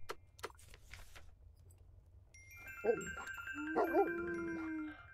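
A cartoon dog in the point-and-click game The Little Acre gives a few short barks and yelps, followed by a sustained chiming musical tone, with faint game sounds before.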